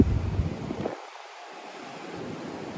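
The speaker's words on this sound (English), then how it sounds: "85, 95 is pretty windy tonight" Strong wind buffets an outdoor microphone in downtown Miami on a stormy night, a continuous broadband rush with low rumbling gusts that ease briefly before building again.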